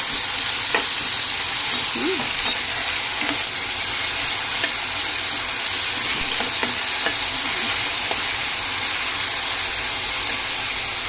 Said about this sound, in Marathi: चांगले क्रिस्पी होईपर्यंत फ्राय करायचे।